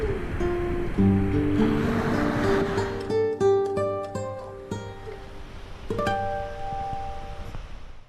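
Ocean waves and surf wash off the coast of Mallorca, a steady rushing hiss that fades gradually beneath light background music, with no talking.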